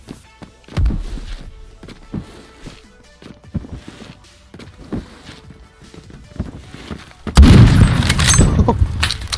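Grenade blast in the Roblox shooter Phantom Forces: a sudden loud, broadband boom near the end that rumbles on for about two seconds, following scattered thuds and footsteps of gameplay.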